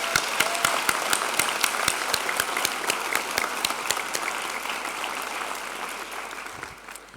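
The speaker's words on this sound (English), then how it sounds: "big round of applause" Sustained applause from a large crowd at a graduation ceremony, dense clapping that holds steady and then slowly fades toward the end.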